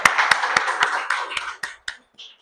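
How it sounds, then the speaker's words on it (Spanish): Audience applause for a doctor after his health talk at an event in Pereira, Colombia: a burst of hand clapping from a small crowd, dense at first, then thinning into a few scattered claps before fading out. "quiero que le demos por favor un fuerte aplauso a él"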